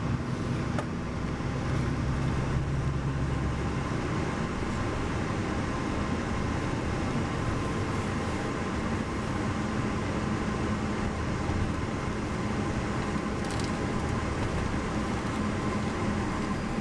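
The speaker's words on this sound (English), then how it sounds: "Sorry for the loud car noises." Loud, steady roar of passing cars at a bus stop, a continuous rumble of road traffic with no letup, close and dense throughout.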